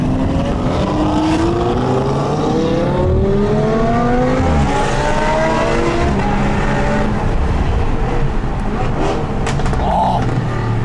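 Several supercars accelerating hard on a mountain road, engines roaring loud and close with rising gear-by-gear pitch sweeps and continuous revving throughout.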